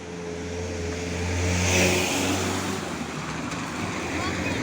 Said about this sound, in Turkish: Anne araba tam yolundan geçti.